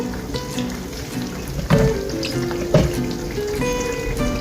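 Dumplings and chickpeas frying over low heat in a pan on the stove, a soft continuous sizzle with a couple of brief utensil knocks, moderately close.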